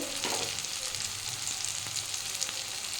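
Bombay duck (lote fish) frying in a pan with sugar, cumin powder, chili powder and turmeric, giving a steady close sizzle with occasional stirring scrapes and no talk.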